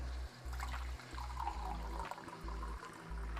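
Water poured into a hot pan of rice for Puerto Rican arroz con pollo, giving a faint, soft trickling and sizzling pour over a steady low background hum.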